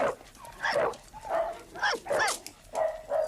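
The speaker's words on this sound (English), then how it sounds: "I know what you're thinking, but it is a dog." A small dog barks and whimpers up close in quick, high yips and whines, arriving in about five or six short bursts with brief gaps between them.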